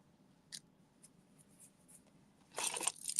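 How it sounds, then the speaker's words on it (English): Paper snipped with craft snips, a few faint sharp cuts followed by a louder burst of rapid snipping and crunching near the end, in a quiet room with no talking. "And snip that off and snip that off."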